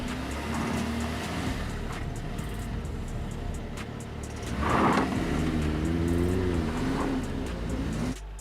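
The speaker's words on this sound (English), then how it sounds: "Look how abruptly the wheel starts slipping though the driver holds stable gas." An SUV engine labors on an off-road climb as a wheel starts slipping under steady throttle, with a steady drone that swells midway into a louder, wavering whine from the spinning wheel.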